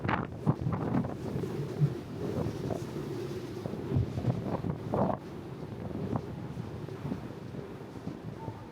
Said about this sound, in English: You get caught in this wind and blow you right off the ship